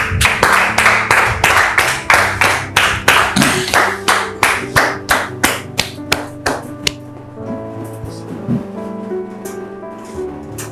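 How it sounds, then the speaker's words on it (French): A church show audience welcomes a guest with loud clapping in unison, sharp even beats that gradually soften and stop, giving way to sustained instrumental tones. "Merci, public, de recevoir ici maintenant notre sœur Georgette, sous vos applaudissements, s'il vous plaît."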